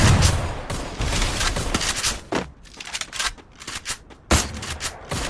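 Dense gunfire from a battle-royale shooting video game: rapid, loud bursts of shots and crackling fusillades that fill the clip, with short gaps and a sharp burst near the end.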